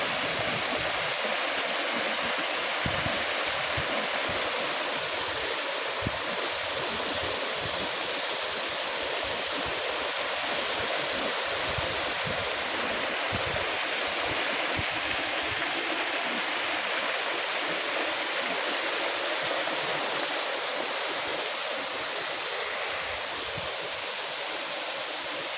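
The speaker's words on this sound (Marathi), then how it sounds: "हे पाणी इकडे पडत आहे." A monsoon waterfall at Gaganbawada ghat pours with a constant, full roar of rushing water, loud and unbroken for the whole stretch with no voices over it.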